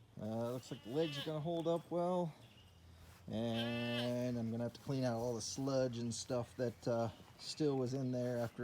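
Goats bleating in a pasture beside a newly welded metal water trough. Several drawn-out, wavering bleats break in between stretches of someone speaking nearby.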